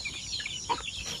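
Chickens kept for sale and nationwide shipping give a brief, soft cluck against a low farmyard background, heard fairly close.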